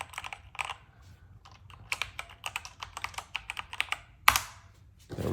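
Keys clacking on a Motospeed BK67 mechanical keyboard with blue switches: irregular bursts of crisp, clicky keystrokes up close, sparse at first, then quicker runs, with a louder slam near the end and no talking.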